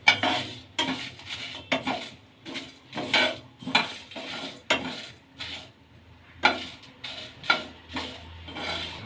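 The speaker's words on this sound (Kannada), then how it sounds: "ಚೆನ್ನಾಗಿ ಡ್ರೈ ರೋಸ್ಟ್ ಆಗಲಿ." Red byadgi chillies and whole spices dry roasting in a pan for masala aam panna, heard as a series of rhythmic scraping and stirring strokes against the metal, with clattering utensil knocks at a moderate, close level.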